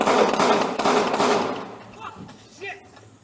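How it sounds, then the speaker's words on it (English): Several loud, rapid gunshots burst out close by during a Dallas police shooting of an armed suspect who rammed a patrol car, followed by quieter thuds and shouting voices as the firing stops. "shots are fired"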